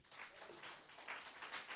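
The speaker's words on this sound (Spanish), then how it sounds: "Dale un aplauso al Señor." A church congregation applauds during a sermon, a brief burst of steady, fairly soft clapping from many hands at a distance.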